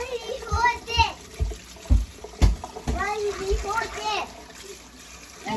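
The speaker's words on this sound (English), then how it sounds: "after I rinse them off, they're going to go in this pot where the white beans are now" Soaked black beans are rinsed under running water, a steady hiss with light splashes while a person talks over it.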